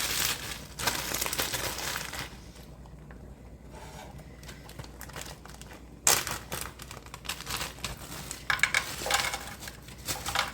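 Green pepper and onion sizzling in a pan for fried spaghetti, a steady crackling fry with crinkly, rustling texture, easing briefly then picking back up with a few sharp clicks and stirring noises.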